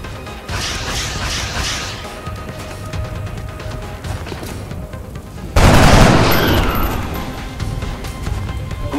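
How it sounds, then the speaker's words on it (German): Rapid bursts of rifle fire rattle in a turn-based battle in XCOM: Enemy Unknown, followed by a sudden loud explosive blast that fades out. "Okay, Delta 2, Feuer frei."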